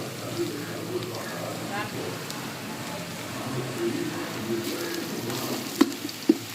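Onions fry in a pan for seeraga samba biryani, giving a continuous close sizzling hiss with occasional pops and stirring knocks, while people talk over it.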